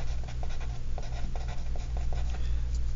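Marker strokes squeak and scratch across a whiteboard while a calculus problem is worked out, with short, rhythmic bursts of writing repeating steadily over a faint low hum and no talk.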